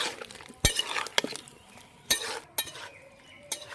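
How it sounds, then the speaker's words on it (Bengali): Jackfruit and potato with spices being stirred in a pan: scattered metallic clinks and scrapes of a spoon against the cookware, soft and close, with no talking. "এঁচড়ের সাথে আর আলুর সাথে ভালো করে মশলাগুলোকে আমি মিশিয়ে নিচ্ছি।"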